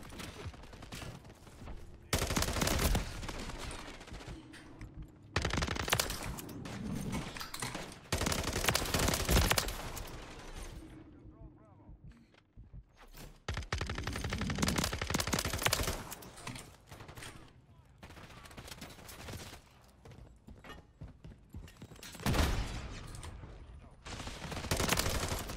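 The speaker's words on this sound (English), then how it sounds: "I didn't realize the Hurricane had so many damn bullets." Rapid bursts of Hurricane SMG gunfire in Call of Duty MW3, loud sustained automatic sprays separated by short pauses, with gaps of quieter game noise between volleys.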